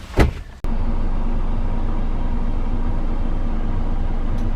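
Inside the cab of a 13-liter, 410 horsepower Scania 6x6 truck on an off-road demo course, a short clunk is followed by a steady, droning engine rumble.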